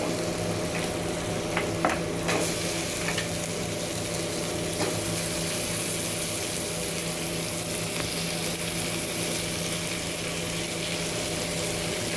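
Chicken pieces dropped into a hot pan of oil for a Bengali chicken curry, sizzling steadily and close, with a few sharp clinks and spatters early on, then a constant frying hiss with no talking.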